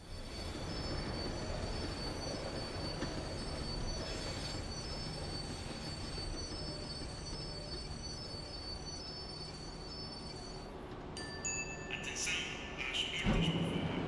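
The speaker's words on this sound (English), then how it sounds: "The tram was slowing down, and I'd only just gotten on board." A tram in Max Payne 3 slows down in New York with a steady rolling rumble and a long metallic wheel squeal that sharpens into brighter screeches near the end.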